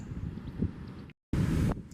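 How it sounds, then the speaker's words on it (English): Wind at St Lucia Estuary beach rumbles steadily against the microphone, briefly cutting to silence before a louder, harsher gust of buffeting noise returns. "It's quite a windy day today."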